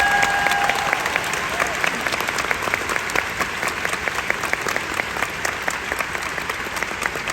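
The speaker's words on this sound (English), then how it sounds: "how about a special applause for them?" Sustained applause from a large audience at a Disney D23 Expo musical celebration, with dense steady clapping filling the hall throughout and a faint crowd murmur beneath.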